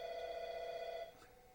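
A telephone bell rings steadily for about a second, a sustained electronic trill that cuts off abruptly, leaving a faint room tone behind.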